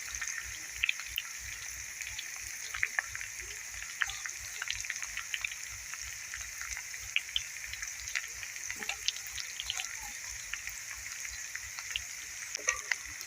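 Okra pieces scattered by hand into a pan of frying onions, with a steady low hiss and many small crackles and pops.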